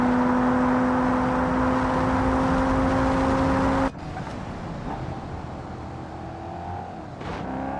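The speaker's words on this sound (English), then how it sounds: "This car goes way too fast" A fast car in a driving video game whines loudly with a steady high engine drone, then the sound cuts abruptly to a lower whirring rush with faint shifting tones, no speech.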